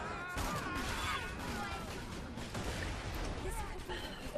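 A dense, unbroken barrage of rapid gunfire and impacts from the video game Borderlands 2 fills the whole stretch, loud and close, mixed with game effects.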